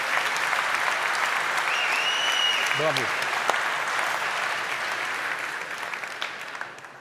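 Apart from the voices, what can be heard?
audience applause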